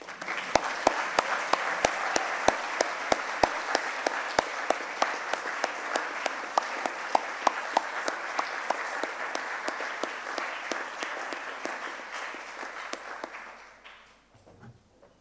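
Delegates at a Model UN closing ceremony stand and applaud, a long steady wash of crowd clapping with a few sharp nearby claps punctuating it, fading out near the end.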